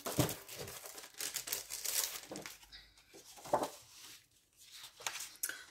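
Sheets of A4 paper being handled and shuffled, with crisp crinkling rustles in bursts and brief quiet gaps between, close by.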